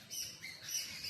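Small birds chirping outdoors, a few quick thin tweets and short calls repeating through the second, fairly faint and somewhat distant, with no speech over them.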